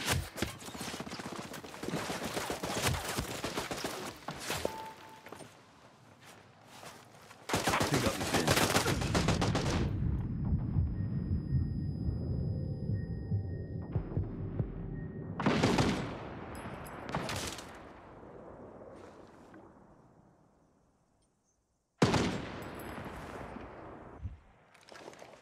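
Gunfire rings out in the video game Ghost Recon Breakpoint: sharp bursts and single shots with longer rolling stretches of fire, a loud sustained barrage, then a quiet fade before more shots at the end.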